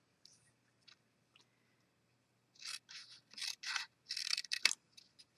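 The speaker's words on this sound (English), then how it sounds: "Cut off the bottom portion." Scissors snip through cardstock for a small paper box, a few faint isolated clicks followed by a quick run of close, crisp cuts in a quiet room.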